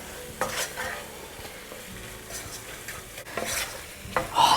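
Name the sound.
stirring pav bhaji masala into vegetable pulao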